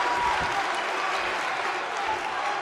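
A wrestling arena crowd applauds and cheers steadily for a wrestler after a wrist-lock and knee attack on Vader, a dense, continuous wash of clapping with no break.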